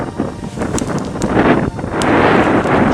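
Strong wind on a cool day on a cycling trail buffets the microphone in loud, gusty rushes, with a roaring, uneven whoosh that swells and eases throughout.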